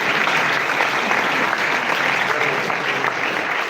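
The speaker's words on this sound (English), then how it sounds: "We can have a round of applause at least, right?" Audience at a London smartphone launch event breaks into steady applause, a continuous wash of clapping at moderate loudness with no break across the few seconds.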